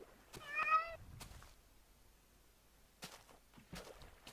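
A cat in Minecraft gives one clear, close meow, followed by faint scattered clicks and taps.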